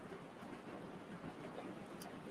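Steady rain falling outdoors, a continuous dense hiss with low rumbling texture, moderately loud and unbroken throughout, with no voices.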